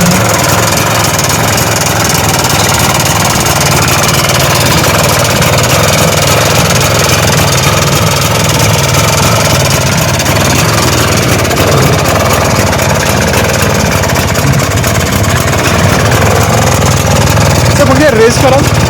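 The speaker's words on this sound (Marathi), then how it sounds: "व्हीवर एका किक मध्येच गाडी चालू झालेली आहे।" A vintage 200cc motorcycle engine idles steadily after a kick start at a classic vehicle exhibition, a loud, continuous close-up rumble with crowd noise and voices in the background.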